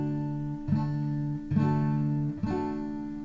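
Acoustic guitar strummed on the bottom four strings, three even strums, each chord sustaining and ringing out clearly up close with no voice over it.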